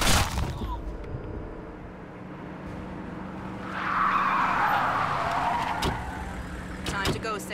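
In the video game Splinter Cell Conviction, a car's tires skid and squeal as it brakes to a stop. The long screech swells in the middle, over engine rumble and scattered game noises, with voices talking around it.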